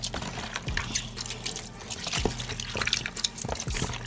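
Blue slime made with glue being stirred, giving wet, squelching liquid sounds with soft drips and sloshes throughout, fairly close, with no talk over it.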